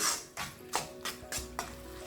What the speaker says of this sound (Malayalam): ഇനി ഇതിലിട്ടിട്ട് നന്നായി ഇളക്കി ഈ പഞ്ചസാരയെല്ലാം മെൽറ്റായി വരുന്നത് വരെ ഇതിലിട്ടിട്ട് വേവിച്ചെടുക്കാം